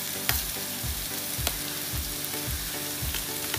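Green chillies and capsicum sauté with onions in a hot pan for Goan chicken chilli, a constant close sizzle broken by regular low thumps of stirring about every half second.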